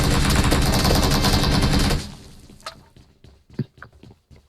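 Dense, loud gunfire in the mobile battle-royale game PUBG Mobile, fired in a continuous burst for two seconds, then dropping to scattered quieter footsteps and clicks, with no talking.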